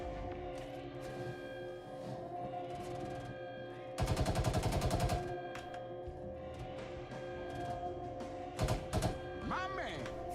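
Gunfire in the space game Star Citizen, with a sharp rapid automatic burst in the middle and a few later isolated shots over a steady mechanical hum, and a voice briefly heard at the end.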